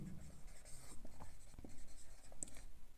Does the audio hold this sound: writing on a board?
yes